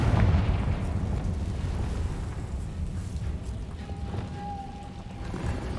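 Explosive Confringo spell cast in Hogwarts Legacy, a loud booming burst at the start that settles into a sustained rumbling roar, with a thin tone rising briefly near the end.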